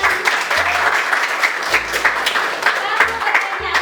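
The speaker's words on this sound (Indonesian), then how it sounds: "berikan tepuk tangan" Students in a university classroom during a practice teaching session give a round of applause, close and fairly loud, with dense rapid claps and brief spoken murmurs mixed in.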